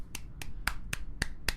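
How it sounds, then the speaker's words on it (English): Six sharp hand claps at an even, quick pace, crisp and close with a quiet background. "That's me clapping hands"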